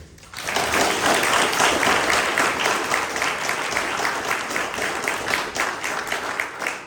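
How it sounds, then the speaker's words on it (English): Dense, steady applause from an audience at an all-mayoral-candidates meeting held by a residents association in West Vancouver, starting abruptly and holding at a loud, even level for several seconds. "I think just a huge round of applause"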